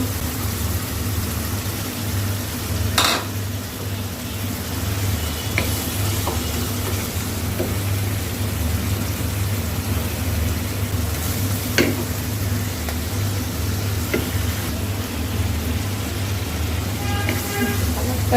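Prawns frying in a pan for a Bengali prawn dish, giving a steady, busy sizzle throughout, with a few sharp clicks and clinks of stirring on top.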